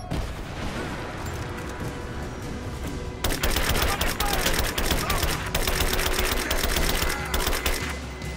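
Rapid, dense gunfire from the video game Rise of the Tomb Raider bursts in loudly after about three seconds of lower ambient noise, then continues as sustained overlapping volleys with brief dips.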